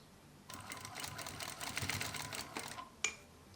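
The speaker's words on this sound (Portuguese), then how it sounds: "Aí vou prender logo aqui com a costurinha de segurança." A sewing machine stitches a safety seam for a dental hygiene kit, a quick run of rapid mechanical needle strokes starting after a brief pause and ending with a sharp click, close and fairly quiet.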